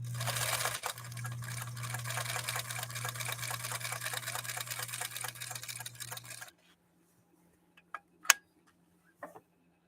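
A 1954 Husqvarna sewing machine stitching a top stitch runs steadily with a rapid mechanical whir and low hum for about six seconds, then stops, leaving a few faint clicks and taps in near silence.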